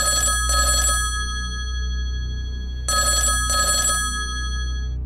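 A telephone rings in two double-burst rings, each pair of bright trilling bells followed by a pause, loud and close over a steady low hum.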